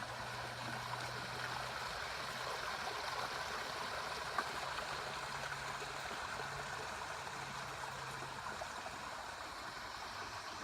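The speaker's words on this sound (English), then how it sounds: "We have several small waterfalls in here." Small waterfalls and a stream among ferns on a forest bike trail, a soft continuous rushing and gurgling of water that stays even and fairly distant throughout.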